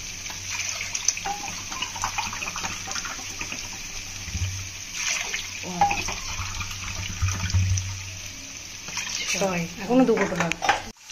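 Water pours and splashes into a pot of rice and lentils at close range, a continuous rushing stream while a person talks over it.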